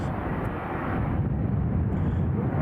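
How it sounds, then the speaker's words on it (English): A Turkish Airlines Airbus A321neo jet airliner passes with a steady, broad engine roar that holds at a constant level, heard from some distance. "Turkish Airlines A321neo"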